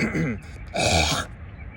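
A person with GERD/LPR clears their throat close up in two quick, rough bursts, then falls quiet.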